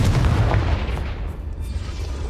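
A Confringo spell explosion in Hogwarts Legacy, a loud, deep booming blast that hits at once and then rumbles and fades over a couple of seconds, close and alone with no talk.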